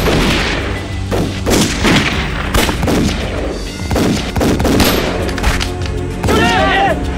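Gunfire in a war film battle scene of Japanese troops raiding a village and guerrillas fighting back: dense volleys of rifle and machine-gun shots cracking over and over, loud and close, mixed with shouting.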